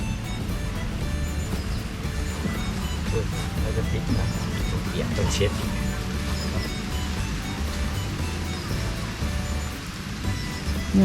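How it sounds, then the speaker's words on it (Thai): Rain pours down on a tent campsite beside a reservoir while the sun is still out, a constant dense hiss of drops that holds evenly throughout. "ฝนก็เทลงมา ทั้งที่แดดก็ยังมี"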